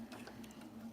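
A sewing machine stitches through cotton fabric in a short, faint burst of steady, fast mechanical whirring and ticking, with no voice.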